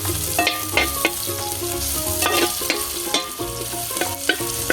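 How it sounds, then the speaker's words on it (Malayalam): Shallots fry in a pan with a constant crackling sizzle, overlaid by repeated stirring scrapes and taps from a utensil at an uneven pace, close and fairly loud with no one talking. "ചുവന്നുള്ളി നന്നായിട്ട് മൂപ്പിക്കുക"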